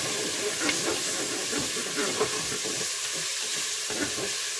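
Lardons fry in a Cookeo multicooker, a steady close sizzle and hiss with faint crackles and occasional stirring scrapes, continuous and even throughout.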